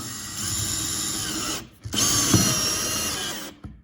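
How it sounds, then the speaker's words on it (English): A battery impact driver drives a Torx screw in two loud whirring bursts with a brief pause between them, running steadily and then stopping abruptly. "So let's use the Torx driver on this."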